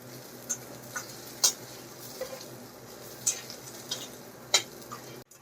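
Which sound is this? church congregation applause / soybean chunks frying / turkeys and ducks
soybean chunks frying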